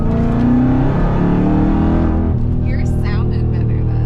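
A loud car engine runs steadily with a revving drone, then drops lower as a voice speaks over it near the end.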